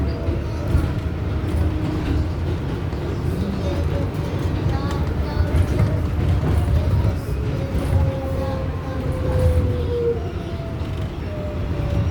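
An NYC subway R188 7 skip-stop train runs between stations, a steady loud rumble of wheels and motors with rising whine tones and rattling, alone throughout.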